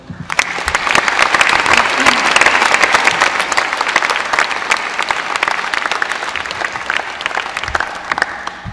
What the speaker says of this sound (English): Let's have a round of applause for all of our accomplishments and hard work.